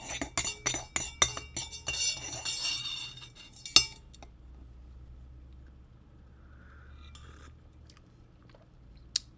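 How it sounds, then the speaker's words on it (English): A spoon stirring honeybush blueberry pancake tea in a cup, a quick run of bright clinks against the sides, one sharper tap, then quiet with a faint clink near the end. "So let's give it a stir."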